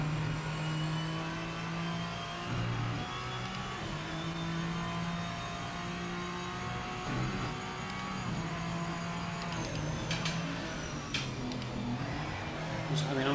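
The Gillet Vertigo race car's engine in the Project Motor Racing game holds a continuous, droning high-revving note for the whole stretch, loud and steady with small shifts in pitch.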